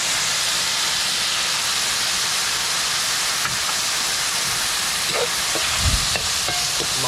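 Mushrooms and fern sautéing with soy sauce: a continuous hissing, steamy sizzle in a pan, fairly loud and even, with a few soft stirring knocks near the end and no talk.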